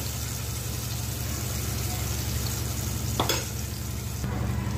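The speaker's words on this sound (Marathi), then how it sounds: "वाटण घातलं होतं मी तेलामध्ये। आता मस्त आपल्याला थोडंसं असं छान फ्राय करून घ्यायचं आहे" Ground masala paste sizzles steadily in hot oil for a quick fenugreek leaf dish, with stirring scrapes and a brief louder clatter near the end, close and continuous, no talking.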